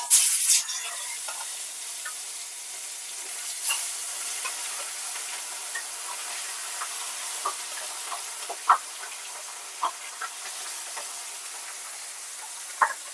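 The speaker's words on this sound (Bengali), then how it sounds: "তেল গরম হয়ে গেছে, মাছগুলো দিয়ে দেবো ভাজার জন্য।" Pieces of rohu fish fry in hot oil in a wok, making a quiet, even sizzle broken by scattered sharp pops and ticks, with no voices.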